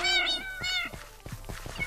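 Cats meowing in the Minecraft video game on PlayStation 4, several drawn-out tonal mews in a row, fairly loud and close with no talk over them.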